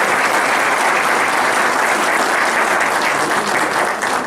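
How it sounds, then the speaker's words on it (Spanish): Loud, sustained applause from a seminar audience, dense and steady clapping filling the room without pause for several seconds. "brindémosles un fuerte aplauso."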